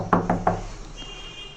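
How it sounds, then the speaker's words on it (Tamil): Three sharp knocks on a wooden door in quick succession, close and fairly loud, used as a sound effect in a narrated story, followed by a faint lingering tone and quiet room noise. "மீண்டும் கதவை தட்டும் சத்தம்"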